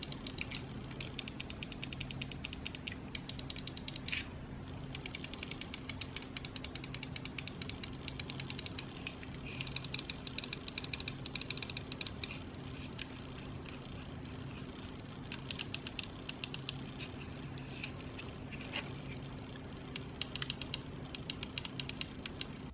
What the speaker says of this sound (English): Here's a quick sound test of the mouse, of all the buttons on there